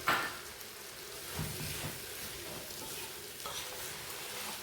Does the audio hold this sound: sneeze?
no